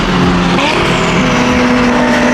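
Ferrari F8 engine under way on a road, a loud continuous close drone with a rising pitch through the run, alone without talk.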